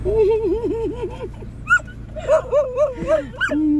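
A dog whimpers and yips in high, wavering whines, with a few short yelps near the end over a steady low hum.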